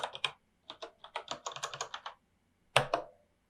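Fingers typing on a computer keyboard, entering a Linux sudo useradd command: a quick run of about a dozen close, crisp key clicks, a short pause, then one louder final keystroke like the Enter key.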